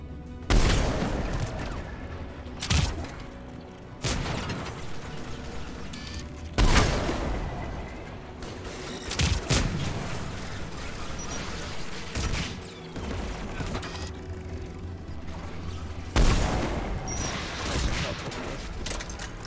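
Anti-aircraft guns in Mass Effect 3 pound away in repeated heavy booms and bursts of gunfire, loud and close over a rumbling battle backdrop, with irregular volleys throughout.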